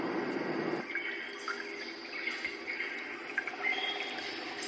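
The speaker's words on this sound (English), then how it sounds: "This is the sound of the countryside." Countryside ambience from a Roffie white noise machine: a steady loop of insects and chirping birds over a soft hiss, with a brief low rumble at the very start, no voices.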